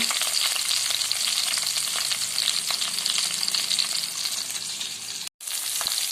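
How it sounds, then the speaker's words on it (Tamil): Tomatoes sautéing in a pan for tamarind curry: a dense, steady sizzle close up, with faint stirring clicks, briefly cut out near the end before resuming. "இப்போ நான் தக்காளி கம்மியாக போட்டிருக்கேன். பாருங்கள், வதங்கிட்டுருக்கு."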